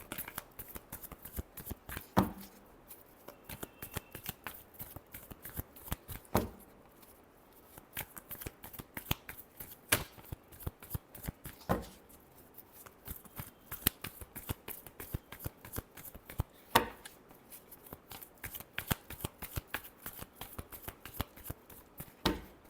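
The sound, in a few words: shuffling tarot cards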